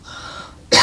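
A sharp, loud throat-clearing cough bursts out near the end, following a quieter stretch of steady background hum.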